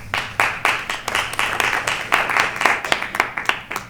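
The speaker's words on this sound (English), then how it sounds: "I would ask you to hold applause just in the interest of time" Audience applause at a public forum on a proposed single-use plastic bag ordinance, a steady patter of many hands clapping throughout with some individual claps standing out, fairly close and without talk.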